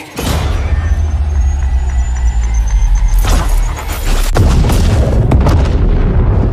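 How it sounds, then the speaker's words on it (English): A grenade blast in the video game Apex Legends, a loud booming explosion with a broad rumbling tail over a constant heavy game soundscape, followed by a second burst of crashing noise. "Grenade."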